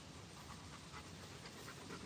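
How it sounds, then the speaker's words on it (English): A dog pants rapidly and steadily close by, its quick rhythmic breaths repeating without a break and no voices over them. "Here's my dog."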